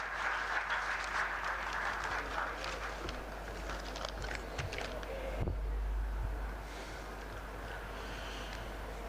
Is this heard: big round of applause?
yes